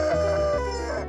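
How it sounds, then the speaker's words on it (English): Chickens clucking and calling steadily, close and fairly loud, with layered bird voices over a low steady hum, as on a small island farm. "I just think chickens are the most delightful creatures."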